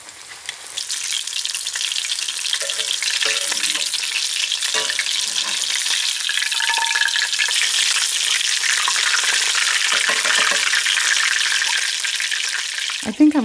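A thick fish fillet fries in a pan with hot oil, giving a loud, continuous, close crackling sizzle that swells and holds steady for a long stretch, with a few faint clinks and a brief knock near the end.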